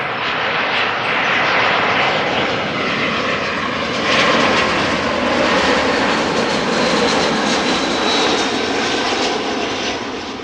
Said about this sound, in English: British Airways A319 inbound from London Heathrow.